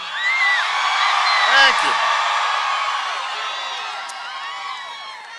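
Large rally crowd at the University of New Mexico cheers and whoops for a speaker, a broad steady roar with scattered shouts, while he speaks briefly over it.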